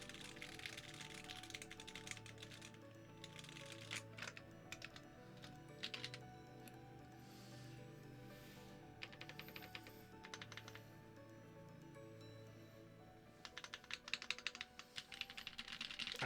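Fast, continuous typing on a mechanical keyboard fitted with Silk Yellow switches, with dense clacks and occasional louder bursts, recorded close but at a low level.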